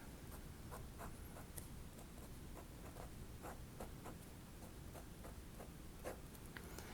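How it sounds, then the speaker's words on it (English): A pen or pencil scratches out handwritten math notes in a rapid series of soft, close strokes and taps over a steady faint background hiss, with no talking. "So I'm going to write that down."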